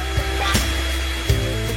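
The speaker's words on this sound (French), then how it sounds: "j'ai besoin d'un sèche-cheveux pour me réchauffer" A hair dryer blows with a steady, loud whir and a constant hum, running alone without speech, with a few brief bumps or handling noises.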